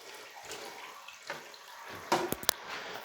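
Water runs into a toilet tank after the shut-off valve is reopened during a toilet installation, a soft hiss and trickle that rises into a few louder gurgling splashes near the end.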